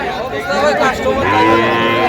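Cattle at a livestock market moo loudly and close by, a drawn-out call among young heifer calves and bulls, with faint crowd chatter underneath.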